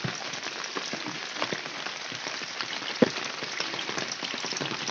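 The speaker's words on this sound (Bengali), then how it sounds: "প্রায় বৃষ্টি ভালো হইতেছে আমাদের এদিকে।" Rain falls steadily at a rural home in Bangladesh, a dense, even patter on surfaces nearby with one sharper drip standing out, and no voices over it.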